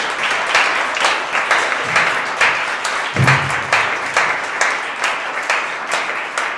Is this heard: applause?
yes